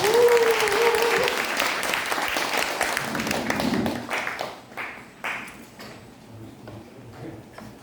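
Applause welcomes a journalist onto the stage at a Korean civic talk event, starting dense under a brief voice, then thinning into scattered individual claps that fade out.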